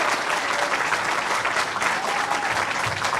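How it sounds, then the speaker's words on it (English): A crowd at a campaign rally in Matawan, New Jersey claps steadily and loudly for Bob Hugin, a dense, continuous burst of applause with no voices rising above it. "let's give a rounding hand of applause for Bob"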